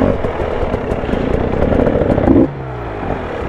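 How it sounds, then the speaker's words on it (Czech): An enduro motorcycle engine choking and sputtering, a rough, uneven revving drone with clattering pulses that suddenly drops off to a lower, weaker idle near the end, close by with no speech. "Ne, moc se mi to dusí ta motorka."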